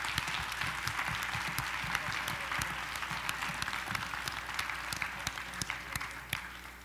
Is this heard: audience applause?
yes